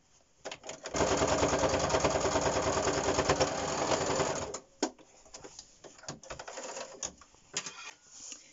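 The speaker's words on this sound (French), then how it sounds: "On va faire une piqûre bord à bord, comme ça, pour fermer le masque proprement." A sewing machine runs a steady, fast stitching burst for about four seconds while sewing edge to edge along a fabric face mask, then stops and gives a few short clicks and brief stutters of the mechanism.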